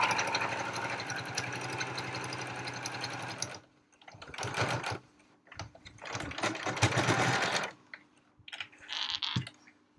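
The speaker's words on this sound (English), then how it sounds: "Here we go with top stitching." A sewing machine runs in a long steady burst while top stitching fabric for a library bag, then stops and restarts in several shorter runs, loud and close with no talking.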